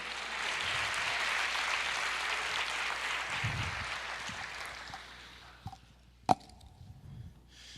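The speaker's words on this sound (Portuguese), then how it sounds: "Aplauda o Senhor." A church congregation applauds at a sermon, the clapping dense and steady for several seconds before fading out, followed by a few isolated knocks and pops.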